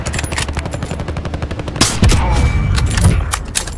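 Rapid assault rifle fire in Call of Duty Warzone 3, a fast rhythmic burst of shots that gives way to heavier booming blasts, loud and close.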